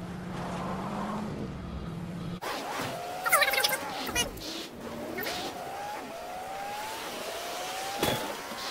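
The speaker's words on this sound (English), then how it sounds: "So here we are, couple of cars here. Get straight in one." Car driving in the Fortnite video game, with a steady engine hum that changes abruptly once the vehicle is entered, then a continuous drive with rising engine tones and brief clunks and skids, moderately loud.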